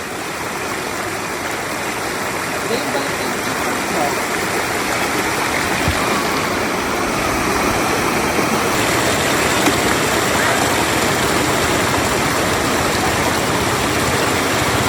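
Three motorcycles cross a shallow river at Coto Mines in Masinloc, Zambales, as a dense, continuous rush of water and engine noise runs throughout, loud and steady, with no clear speech.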